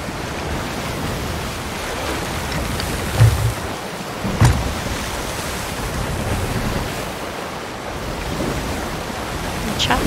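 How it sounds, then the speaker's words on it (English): Choppy ocean waves in the pirate game Sea of Thieves, a loud continuous wash of surf and wind with a couple of heavier splashes breaking through, heard alone without talk. "Choppy waves."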